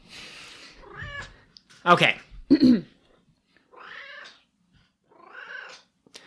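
A cat meows close by, two short sharp calls in quick succession, with people talking casually before and after.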